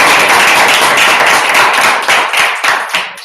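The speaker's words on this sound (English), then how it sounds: "So hopefully everyone else will give you a round of applause." A Toastmasters club audience of young professional entrepreneurs breaks into loud, dense applause that fills the room, then thins out and trails off toward the end.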